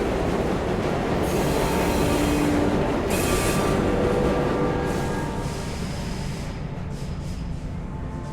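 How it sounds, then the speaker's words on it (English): In the video game Luna Abyss, a train rolls into its final station: a continuous loud rumble of wheels on rails with a rising metallic squeal and brief hissing bursts, slowly easing off toward the end, with no voices. "We have reached the end of the line where this train will terminate."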